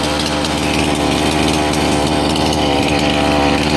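A petrol chainsaw with poor chain oil feed cuts firewood, a loud, steady, close-up roar that holds throughout with no pauses and no talking.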